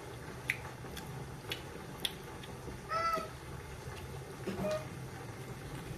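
A house cat meows a few times indoors, short tonal calls of moderate loudness spaced across a quiet room with faint background noise.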